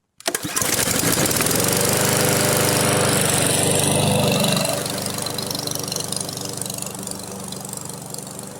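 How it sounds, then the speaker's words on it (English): A lawn mower engine at a campground starts up and roars close and loud for several seconds, then eases back to a steadier, slightly quieter run with a rough, knocking edge; no one speaks. "I'm gonna get to the mowing"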